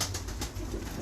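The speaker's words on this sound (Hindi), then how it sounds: "ये कबूतर है।" A breeder pigeon gives a short, soft, low coo, faint against steady background hiss and rumble.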